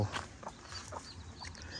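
Hens and other farm poultry cluck in soft, scattered bursts at close range against a steady low background, with no voices.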